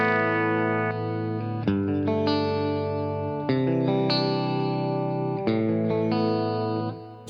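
An electric guitar runs through a pedal board with the volume pedal switched in, giving sustained, layered chords with effects shimmer. The playing is steady and fairly loud, alone with no talking.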